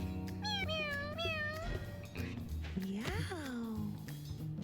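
A cat in a video game meows repeatedly with drawn-out, rising and falling cries, loud and near, while a person talks over it.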